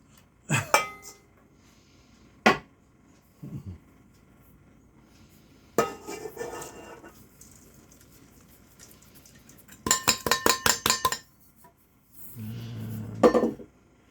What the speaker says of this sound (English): raisins, I'm just throwing everything in the bowl